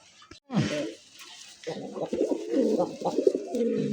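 A Bagh Bakum pigeon coos close by in low, throaty, rolling calls repeated over a few seconds, with faint background voices.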